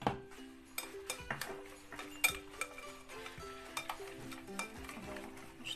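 Dry brownie ingredients, cocoa among them, mixed by hand in a bowl with no electric mixer, giving soft irregular stirring scrapes and light clinks, close and fairly quiet.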